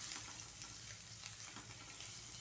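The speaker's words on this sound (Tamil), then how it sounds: "இப்போ இது கூட நான் துருவி வச்ச இஞ்சியும் பூண்டையும் சேர்த்து நல்லா ஃப்ளேவர் போகிற அளவுக்கு வதக்கிக்குவோம்." Grated ginger and garlic sautéing in hot oil over a high flame make a steady, soft, hissing sizzle that stays even throughout, with no voices.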